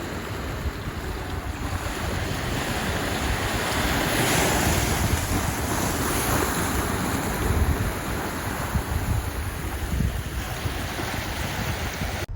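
Ocean waves wash in at the water's edge on Maui, Hawaii, at sunset: a steady broadband surf roar with gentle swells of louder wash, plus some wind buffeting on the microphone, and no talking.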